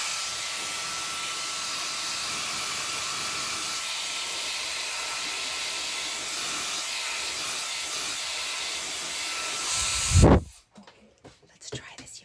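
Hair dryer blasting cold air onto a wig, a loud steady hiss that runs for about ten seconds before stopping abruptly, with a voice heard briefly near the end.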